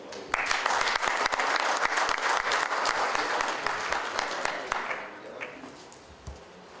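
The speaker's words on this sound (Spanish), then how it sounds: "recibámoslos con un aplauso" Steady, dense applause from a seminar audience at an international sheep and goat conference, a full roomful of clapping that holds strong before tapering off near the end.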